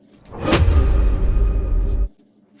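Aerosol can of WD-40 spraying onto stuck, brittle old rubber parts during a Honda ATV repair, a steady hiss running about one and a half seconds after a short onset, then cutting off.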